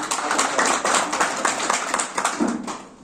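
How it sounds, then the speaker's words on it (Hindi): Audience applause at an NPSEA Chamba gathering, a burst of brisk, close hand clapping from a crowd, fairly loud and continuous, with no voices over it. "इनके लिए पहले आप एक बार जोरदार ताली बजाएं"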